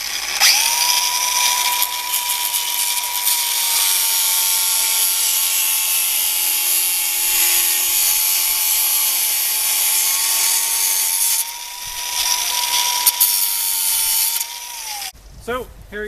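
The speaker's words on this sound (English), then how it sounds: "I'm going to come now with the angle grinder and just chop off." An angle grinder cuts off protruding bolts on a garden bench build, a loud, close, sustained high whine with a steady tone that holds for about eleven seconds, breaks briefly, resumes, then winds down.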